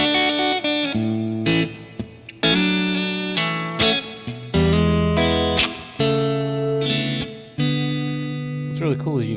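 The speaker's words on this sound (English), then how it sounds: "you can hear the reverb in the room." Electric guitar notes and chords through a UA Ox Box, with spring reverb heard through speaker cabinets in a room, ring out with a wet, splashy tail, each strum decaying into a roomy wash, with no talking.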